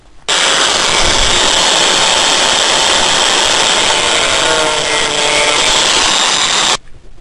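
A power saw cuts a wooden piece to 6 centimetres for a pinned corner joint, starting abruptly and running as a loud, steady, close whine with grinding texture for about six seconds before cutting off.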